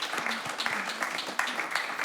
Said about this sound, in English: Please, a round of applause and much love for Xiu.